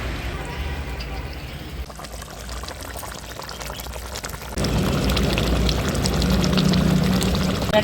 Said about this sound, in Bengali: আমি একটু কাঁচা সর্ষের তেল দিয়ে দেবো উপর থেকে।